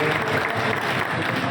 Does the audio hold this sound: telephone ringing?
no